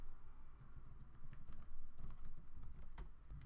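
Rapid clacking of a computer keyboard, irregular bursts of keystrokes close to the mic, fairly quiet with no talking.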